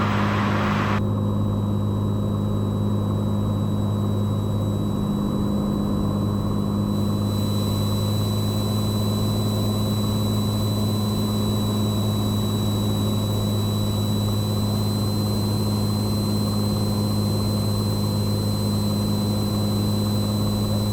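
Steady, loud droning of a Cessna 182 engine heard from inside the cabin during a turbulent flight from Scott City to Wichita, a constant low hum with a whining tone above it and no talk.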